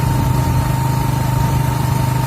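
A motorcycle engine runs steadily with a constant droning hum and a high whine, close by and unbroken throughout.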